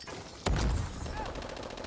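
Gunfire erupts in a multiplayer shooter match, a loud close shot followed by a rumbling burst and ringing tail over faint game ambience.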